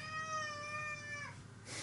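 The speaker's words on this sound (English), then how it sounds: "It's my cat, he's just come in." A male pet cat named Neon gives one long, drawn-out meow close by, holding the tone for over a second before it breaks off into a brief breathy rush of noise.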